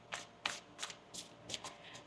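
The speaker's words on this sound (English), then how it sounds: "Let's get one more shuffle here." Soft quick riffles of a deck of cards being shuffled, a handful of brushing, flicking bursts, close and quiet.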